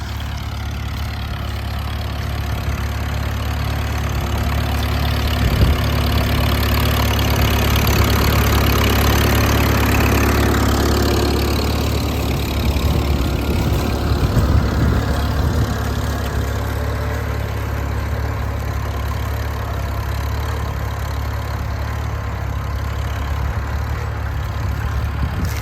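An antique tractor engine at a plow day chugs steadily up the road, a continuous low idling rumble with a faint knock that swells slightly mid-way as it draws nearer, no talk over it.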